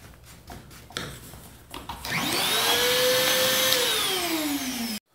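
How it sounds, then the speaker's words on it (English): After a few rustles and clicks, a vacuum cleaner set to its blower side starts up with a loud rising whine, holds a steady roaring hum for a few seconds, then drops in pitch before cutting off abruptly. "So I'm gonna pull it out and switch it over to the blower side."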